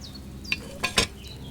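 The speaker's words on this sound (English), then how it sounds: "Hear that bubbling? It's boiling." A cauldron of wine bubbling over a flame in the video game Kingdom Come: Deliverance 2, heard as a few sharp, close pops and bursts over a faint steady hiss.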